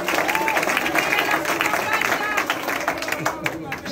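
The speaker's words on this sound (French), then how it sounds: "Applaudissez encore pour notre ministre." Audience applause for a female minister at a ceremony honoring graduating comedians and artists, a steady wash of clapping sustained throughout with crowd noise and voices mixed in.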